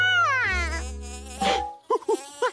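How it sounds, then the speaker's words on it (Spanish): A honey bee buzzes with a wavering, sliding tone in a cartoon scene, followed by short whining bursts, close and fairly loud, with no talking. "Es una abeja de la miel, Jorge"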